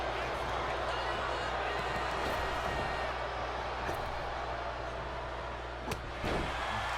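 Crowd at a video game wrestling show in San Diego: a steady, loud arena roar that holds throughout, broken by a couple of brief sharp thuds near the end, with voices mixed into the din.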